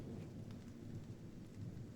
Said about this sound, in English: Yeah, the rain is a nice touch.